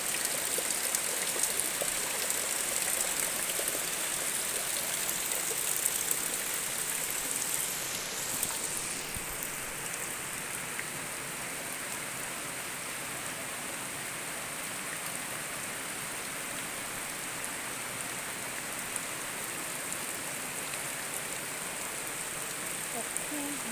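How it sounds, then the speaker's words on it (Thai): Steady heavy rain hisses continuously across the whole stretch on a coffee plantation, a dense broadband wash with no clear pauses, like a heavy downpour close by. "ฝนตก"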